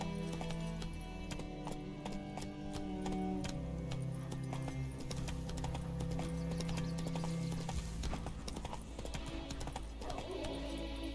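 Horse hooves trot at a steady clip-clop rhythm in The Witcher 3: Wild Hunt, close and continuous throughout, with no talking.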